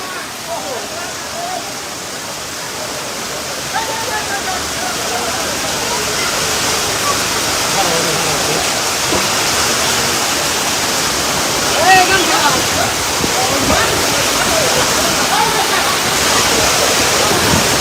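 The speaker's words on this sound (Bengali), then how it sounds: "দেখি প্রচুর বৃষ্টি ভাই। মিরপুরে অনেক বৃষ্টি হচ্ছে।" Heavy rain pours steadily during a storm in Mirpur at a cattle market, a dense continuous hiss that stays loud and even throughout, with faint voices in the background.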